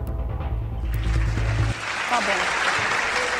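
A canned applause sound effect fires from a button on a Brazilian TV programme, a dense steady wash of clapping that swells in and continues after a speaking voice and low music fade out.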